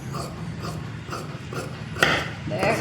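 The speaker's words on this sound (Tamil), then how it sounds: "இதை கட் பண்ணி எடுக்கணும்" Scissors cut fabric for a katori blouse, giving close, rhythmic crunching snips about twice a second, with a louder cut near the end.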